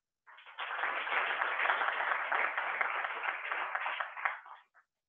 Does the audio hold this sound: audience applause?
yes